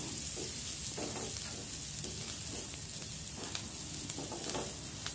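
Garlic and onion fry in hot oil in a home kitchen, a soft steady sizzle with occasional stirring scrapes, quiet and close, with no speech.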